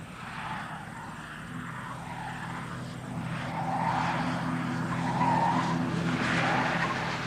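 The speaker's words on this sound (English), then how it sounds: "The Falcon is now traveling at over 90 kilometers per hour." A Ford Falcon sedan at over 90 km/h, tyres squealing and skidding in long sustained surges over a steady engine and road roar, loud and close with no talk.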